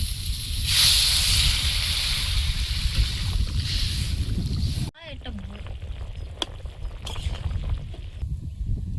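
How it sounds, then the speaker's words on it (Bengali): Water poured into a hot pan of fried ridge gourd gives a loud, steady rushing hiss that cuts off abruptly, leaving a quieter bubbling simmer with small crackles. "ঝিঙে দিয়ে ভেজে নিয়েছি, এবার জল দিয়ে দেবো"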